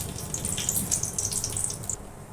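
Water pours steadily into a pan holding a bay leaf, with a bright splashing trickle, continuous for about two seconds and then easing off.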